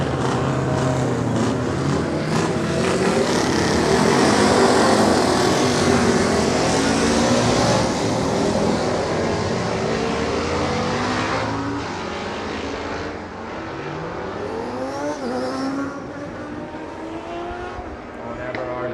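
A Yamaha R6 motorcycle engine runs at the Cookstown 100 road races, a loud sustained drone that rises and falls across the whole stretch, then eases slightly toward the end, with crowd or voices mixed underneath.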